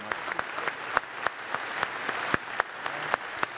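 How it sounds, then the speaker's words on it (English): Sparse applause for contestants and winners at a solar award event, a small group clapping in a loose steady rhythm of distinct claps, moderately near and without voices. "a big round of applause for all of our contestants and our winners here today"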